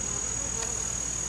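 Honey bees in a hive during an inspection after a flood, a steady dense buzzing hum close by, continuous and even, with a thin high tone running throughout.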